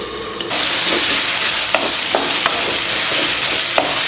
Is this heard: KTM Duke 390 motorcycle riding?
no